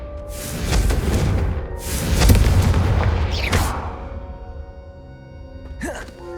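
Explosive Confringo spells cast in the video game Hogwarts Legacy land as rolling booms, two or three big blasts with a whooshing streak, then fading into quieter game ambience, with voices present.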